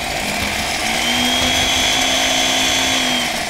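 A kitchen blender runs continuously, blending a salt-free juice, with a loud steady motor whine and a slight rising pitch across the whole stretch, with no talking.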